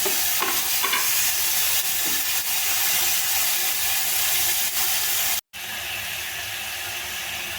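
Tomatoes sauté in a pan for a vegetarian liver gravy, a loud, steady sizzle and hiss with the rustle of stirring, broken by a brief dropout near the end.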